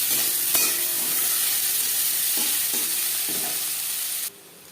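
Tomato and a large onion frying in oil with bay leaf and five-spice, a steady broad sizzle close by with a few light utensil taps, the hiss dropping away sharply near the end.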